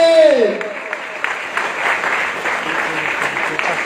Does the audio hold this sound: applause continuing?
yes